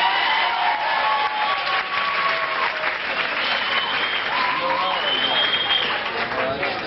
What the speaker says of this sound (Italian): Un applauso alle nonnine della Blues Mobile!